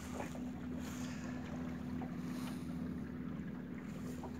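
Northeast wind blowing over the Lagoa dos Patos from a boat, a steady rushing wind noise with low engine or hull rumble and water wash underneath, constant throughout with no voices.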